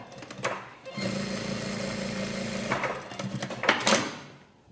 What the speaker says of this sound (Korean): 요 시접이랑 얘랑만 박을 수 있도록 스티치 한번 놔줍니다